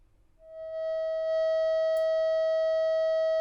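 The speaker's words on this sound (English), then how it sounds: "Sounds like a constant tone." A Buchla Easel V synth holds a steady, buzzy constant tone with rich harmonics, its envelope retriggered so fast by the pulsar that it fuses into one sustained pitch; it swells in over the first second, then stays level with a faint click midway.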